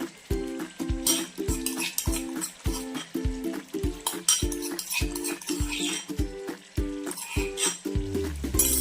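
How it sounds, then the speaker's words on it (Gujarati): A spoon scrapes and clinks in a steady rhythm as garlic paste is stirred in a pan over a low flame, with a soft sizzle under the repeated strokes. "ચમચાની મદદથી સારી રીતે એને હલાવી લઈશું"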